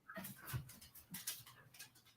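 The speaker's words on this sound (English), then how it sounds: "Dog hijinks on the porch." A dog on a porch whimpers and pants in quick, breathy bursts with soft whines, close and fairly quiet, with no voices.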